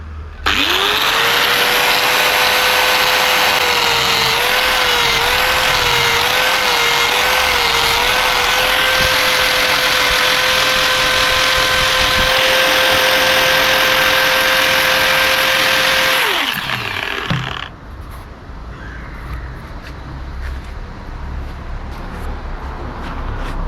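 A power tool cuts into the throttle housing side on an NS200 motorcycle to make room for a hand guard, a loud steady whine with a wavering pitch that runs about sixteen seconds, then stops abruptly, leaving quieter background noise.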